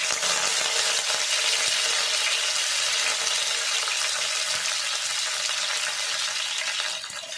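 Curry leaves crackle and sizzle in hot oil with mustard seeds for a tempering, a dense, loud, continuous frying hiss close by that eases slightly at the end, with no talking.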